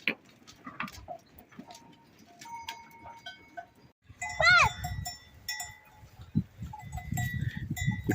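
Goat kids bleating while being fed in the evening by young shepherds, one clear bleat mid-way among scattered farmyard clatter and shuffling, with voices talking around them.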